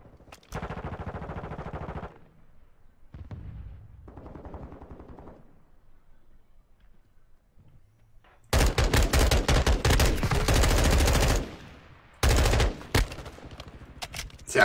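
Shotgun fire in the video game Call of Duty: bursts of loud, dense, rapid blasts, the heaviest salvo running several seconds, separated by quieter gaps of game noise.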